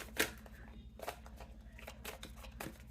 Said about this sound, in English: Going to keep shuffling because that was more than one.